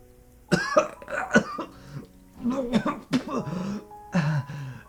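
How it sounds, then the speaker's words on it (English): Several harsh, wet coughs come in uneven bursts, close and strained, mixed with rough throaty vocal sounds. "He was coughing up blood."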